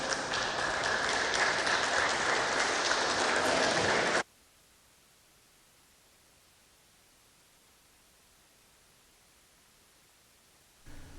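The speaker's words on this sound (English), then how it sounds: "Applause there over Senate Bill 634 passing" Brief burst of applause in a state legislative chamber after a Senate bill passes, a dense clatter lasting about four seconds before cutting off to near silence.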